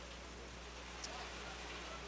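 Heavy rain pours steadily over an outdoor baseball game between the Swift Current Indians and Weyburn Beavers, a constant broadband wash with a low hum underneath and no talk.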